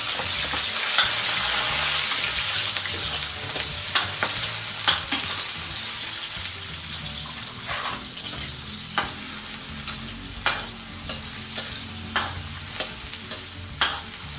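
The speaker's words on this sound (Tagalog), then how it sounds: "Magigisa na tayo ng sibuyas tsaka bawang." Onion and garlic sauté in hot oil in a heated pan for mung bean stew, a steady dense sizzle running throughout with repeated sharp scrapes and clacks of stirring, close and loud with no talk.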